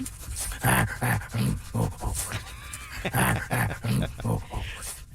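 A dog pants heavily in quick rhythmic bursts, close by, with scraping and scuffling sounds of digging mixed in.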